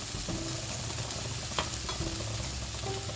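Grated coconut being sautéed with vegetables in a pan, a steady soft sizzle and frying hiss with a few light scrapes of stirring, fairly quiet and with no talk.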